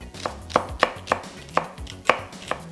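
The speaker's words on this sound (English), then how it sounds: "Just cut your celery into bits that will fry up nicely." Knife chopping celery into pieces on a cutting board, about eight crisp, evenly spaced chops, close and alone with no talk.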